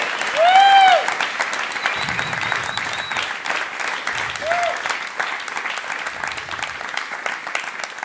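A stand-up comedy audience bursts into sustained applause, dense and steady clapping filling the room with a few whoops and shouts rising above it.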